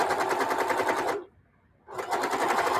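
A sewing machine stitches in a fast, loud rattling run, stops briefly for under a second, then starts up again at the same rapid pace.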